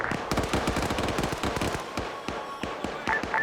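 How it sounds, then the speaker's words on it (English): Rapid bursts of gunfire crackle continuously, somewhat distant and echoing, with irregular clusters of shots throughout. "I'm hearing gunfire to the west."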